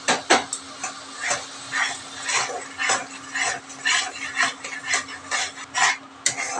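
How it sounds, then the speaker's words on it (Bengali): A spoon whisks sour yogurt in a bowl, making rapid, rhythmic scraping and clinking strokes close up, repeated steadily for several seconds. "টক দইটা আমি ফেটিয়ে নিচ্ছি"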